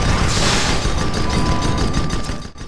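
Heavy, dense gunfire rattles from an airship in the video game Guns of Icarus, loud and continuous with booming bursts and no talk over it.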